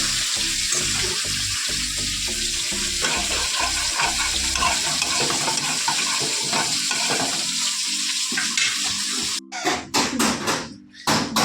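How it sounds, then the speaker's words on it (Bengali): Meat frying in a pan in a home kitchen, a loud continuous sizzle with stirring and scraping, ending in a few sharp bursts of clatter. "এদিকে দেখো মাংস ভাজা হচ্ছে"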